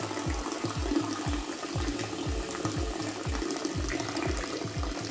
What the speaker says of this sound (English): Turn on the water using touch control to check if it works and to check for leaks.